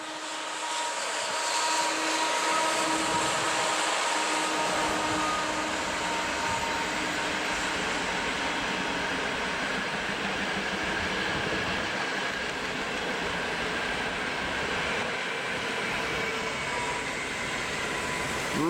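A PKP Intercity train hauled by an EP09 electric locomotive passes with a steady, loud rolling rumble and hiss that stays close and even for the whole stretch, with no voices.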